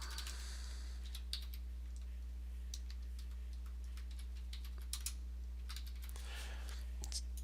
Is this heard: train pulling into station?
no